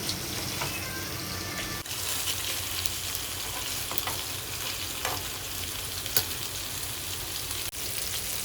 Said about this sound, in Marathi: सो एक साईड फ्राय करून झाला मासे आता टर्न केला आहे